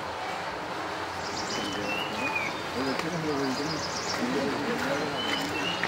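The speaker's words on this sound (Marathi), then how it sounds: "पक्ष्यांचा आणि रातकिड्यांचा आवाज कानावर सतत पडत होता." Birds and crickets chirp on a rainy forest trek to Devkund waterfall: scattered bird calls and thin insect chirps rise over a constant damp background hiss, fairly near and moderate in loudness.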